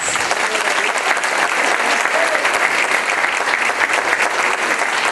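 Sustained applause from a church congregation after a call to clap for the King of Kings, dense steady clapping filling the whole stretch without pause.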